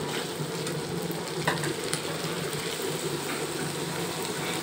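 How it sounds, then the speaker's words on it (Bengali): Onion paste and garlic paste frying in oil for a home-cooked malai curry, a steady close sizzle and crackle with light stirring noises, no voices. "এরপরে দিয়ে দিলাম 1 চামচ পরিমাণে রসুন বাটা, দিয়ে আমি কিছু সময় ভেজে নেব।"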